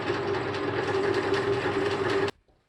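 A sewing machine stitches fabric with a fast, even, close mechanical whir that stops abruptly near the end, and no one speaks.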